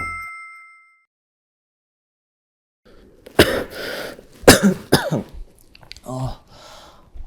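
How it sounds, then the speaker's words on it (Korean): A student with a bad cold coughs during a school tuberculosis response drill, a few sharp, close coughs in quick succession after a stretch of near silence, with a faint chime at the start. "아침에 약 먹었는데도 계속 기침이네."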